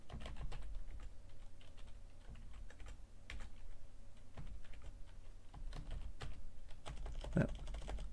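Steady typing on a computer keyboard, with a dense run of soft key clicks and taps at an even pace, fairly quiet and close, over a low room hum with no speech.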